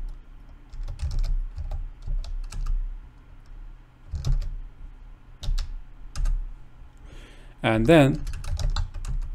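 Computer keyboard keys clatter in quick bursts as terminal commands are entered during a ransomware recovery exercise using Windows shadow volume copies, with a person talking over the irregular clicks.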